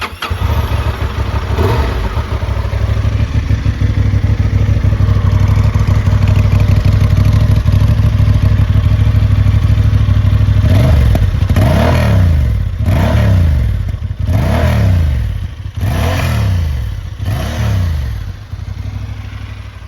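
A Honda XL750 Transalp motorcycle engine idles loudly up close, then revs in five or six sharp, evenly spaced blips that rise and fall, with mechanical clatter underneath and no talking.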